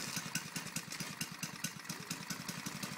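A Baja Doodle Bug minibike engine idles just after a cold start, outdoors on ice, with a steady, rapid, close putter of even beats and no talking.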